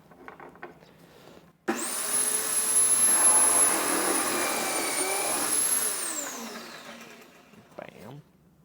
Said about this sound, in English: now I need to use the pocket hole jig machine and get some holes drilled